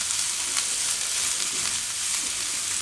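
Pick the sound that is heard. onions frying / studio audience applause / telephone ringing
onions frying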